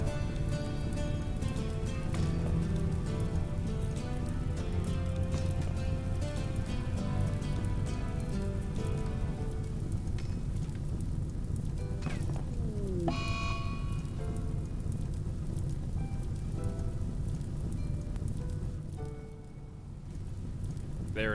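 Steady, dense rain hiss in the colony game RimWorld, running continuously at even loudness alongside sustained musical tones, easing slightly near the end.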